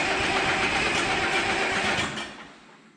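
An old engine runs loud and close with a steady, rough mechanical drone that holds for about two seconds, then drops away and fades.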